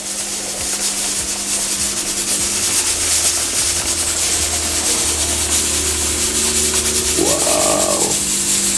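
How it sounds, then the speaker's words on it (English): Grated coconut is squeezed and rubbed by hand through a strainer to press out coconut milk, giving a continuous close rustling, wet rubbing sound with a faint hum and a brief clatter near the end. "So I'm gonna strain the coconut. Gonna get out the milk."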